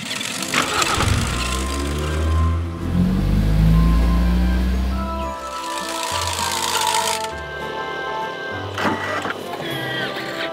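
An excavator engine works in sand on an island, its big bucket scooping sand away. A loud, continuous low rumble shifts and surges, with harsh mechanical grinding over it.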